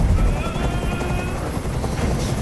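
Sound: helicopter noise in video game Detroit Become Human

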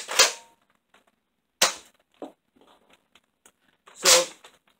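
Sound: BOOMco Halo Needler toy blaster firing loudly

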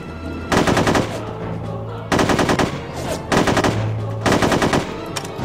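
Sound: machine gun fire in the video game No One Lives Forever 2

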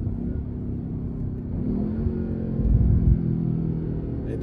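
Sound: BMW M8 Competition engine downshifting with catless downpipe

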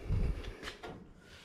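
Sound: early Ford Bronco door being shut

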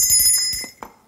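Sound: quiz bell rung by contestant to answer

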